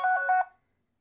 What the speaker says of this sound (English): So in order to stop that ringing, press the power button.